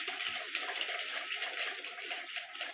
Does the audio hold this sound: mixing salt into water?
yes